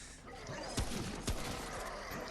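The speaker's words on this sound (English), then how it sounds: "And they're shooting at me!" Enemy gunfire in the video game Remnant: From the Ashes, two sharp shots standing out over a busy, noisy battle mix with scattered smaller pops.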